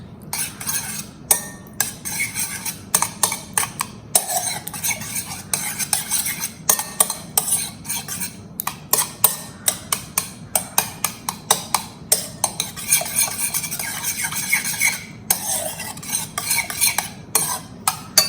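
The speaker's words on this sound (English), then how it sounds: "Add your curd. Mix it a little bit." Curd being mixed in a mixing bowl for steamed sweet curd, a spoon scraping and clinking against the bowl in a quick, steady rhythm of close taps and stirs, with no talking.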